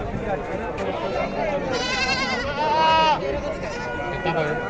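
Desi goats bleat at a busy goat market, several wavering cries close by, over steady crowd chatter and people talking.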